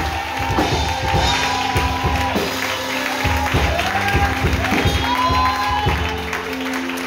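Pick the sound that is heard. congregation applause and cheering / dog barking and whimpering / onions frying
congregation applause and cheering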